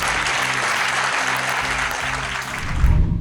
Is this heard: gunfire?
no